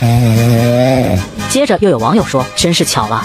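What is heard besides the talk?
domestic cat snoring while asleep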